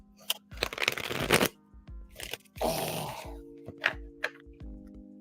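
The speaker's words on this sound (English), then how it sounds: "My shuffling's so obnoxious." Playing cards are riffled and bridged several times in quick bursts, close up, with soft clicks and pauses between shuffles.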